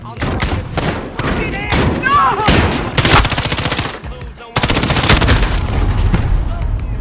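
Gunfire in a shooter video game, bursts of rapid automatic shots interspersed with heavier booms and thuds, loud and close, mixed with some voice-like game sounds.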